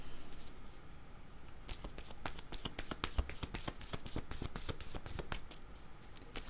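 A deck of tarot cards being shuffled by hand, a rapid run of crisp flapping riffles close up, with no talking.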